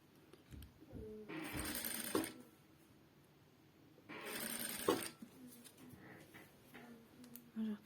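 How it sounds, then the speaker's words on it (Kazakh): A sewing machine stitches a white fabric pillowcase border in two short bursts of running, each about a second long, with quieter handling sounds between them. "5 сантиметрмен өлшеп отырып, тігіп отырамыз."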